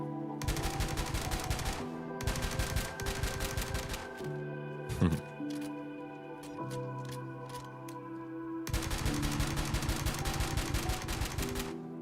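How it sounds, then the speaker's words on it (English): Automatic gun fire in the space game Star Citizen, rapid bursts rattling loud and close in two long strings, with a short pause broken by single shots and mechanical clicks in between. "I love this gun. It's so much fun to shoot, dude."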